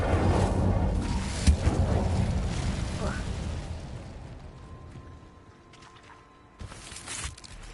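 The Incendio fire spell in Hogwarts Legacy erupts as a broad roaring whoosh that slowly fades, followed by another sharp fiery burst near the end.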